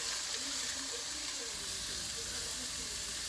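Broad beans frying with onion and garlic in a pan, a steady close hiss and crackle of sizzling oil that holds even throughout, with no talk.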